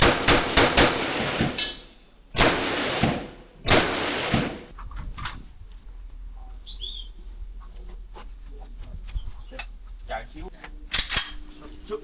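Guns fired at a shooting range near the Vietnam war tunnels, several loud, sharp shots with echoing tails in the first few seconds, then a quieter stretch of ambient noise and faint background voices.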